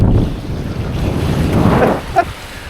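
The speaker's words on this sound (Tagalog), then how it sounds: "sa gitna kami ng dagat" Wind and waves around a boat out at sea, a steady rushing wash with buffeting gusts on the microphone and a brief splash near the end.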